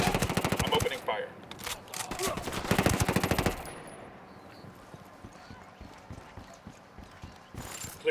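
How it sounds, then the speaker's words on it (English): Automatic gunfire bursts loudly in the Ghost Recon Wildlands video game, rapid rattling volleys for the first few seconds, then quieter game ambience with a short final burst. "I'm opening fire."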